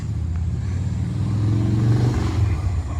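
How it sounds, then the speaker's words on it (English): A classic Chevrolet Nova pulls away from a car show, its engine a steady close low rumble that swells slightly as it drives off, with no talk over it. "Well, we have a Nova that's leaving."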